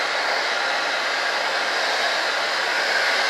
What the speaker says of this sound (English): We just want to warm it up into that new fiberglass, the new resin.